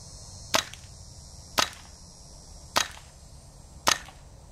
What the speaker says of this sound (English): we got some BBs loaded up in the mag, some gas in here. We're gonna test it out.